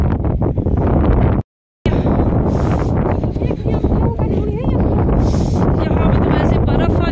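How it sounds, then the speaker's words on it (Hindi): Cold, strong wind blows on a high Himalayan mountain trail near the Tungnath Shiva temple, roaring continuously into the microphone with heavy gusting buffeting, briefly cut out once, while someone talks over it. "कैसी हवा चल रही है देख सकते हैं आप, जहरीली एकदम ठंडी।"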